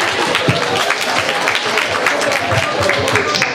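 Concert audience applauding, a dense, steady wash of clapping that lasts the whole stretch, with voices mixed in around it.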